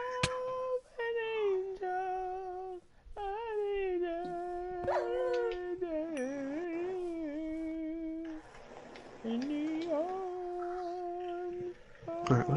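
A wolf dog in the Minecraft video game gives long, wavering howls that rise and fall in pitch, loud and continuous with short breaks and no talk over them.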